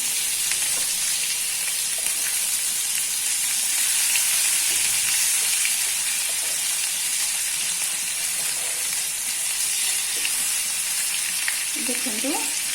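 Masala fish fries in oil over a low flame, a dense, steady sizzle and crackle that holds close and even throughout with no voices.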